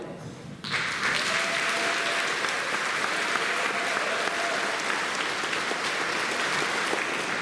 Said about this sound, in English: May the first row stand and be applauded